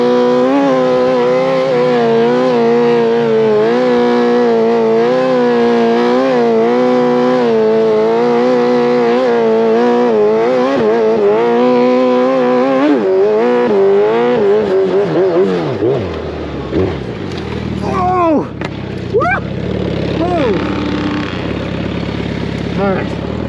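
A street bike fitted with a paddle tire roars loudly at high revs while climbing a steep sand dune hill, the engine note rising and wavering continuously, then breaking up into sputters and lighter revs near the end.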